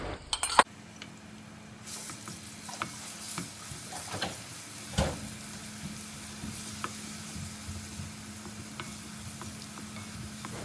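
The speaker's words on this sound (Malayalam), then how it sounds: "ഈ ഒരു ക്രഷ് ചെയ്തെടുത്ത വെളുത്തുള്ളി ചേർത്തിട്ടൊന്ന് വഴറ്റി കൊടുക്കുക" Crushed garlic sautéing in hot oil for Schezwan chutney, a faint, steady sizzle with a low hum beneath and scattered stirring clinks and taps.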